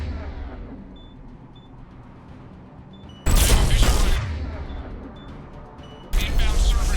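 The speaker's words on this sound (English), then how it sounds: "Cannon fire is clearing the way." Cannon fire and gunfire boom in a Mass Effect battle against Cerberus forces, two huge sudden blasts roaring close and loud after a stretch of low rumbling ambience.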